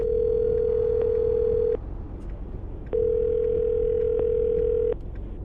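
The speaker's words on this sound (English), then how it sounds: "I'm gonna dial the phone number right now though and get her on the phone" A steady telephone dial tone sounds in two long, loud stretches separated by a short gap, each broken by faint clicks as a phone number is dialed, with no talking over it.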